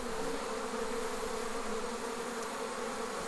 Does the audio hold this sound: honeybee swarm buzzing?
yes